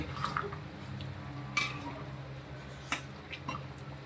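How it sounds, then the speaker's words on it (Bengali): A spoon stirs chicken curry in a pan after chili powder goes in, giving faint, quiet scraping with a few sharper clinks against the metal. "ভালো করে নাড়িয়ে নেব মরিচ গুঁড়ো দেওয়ার পরে"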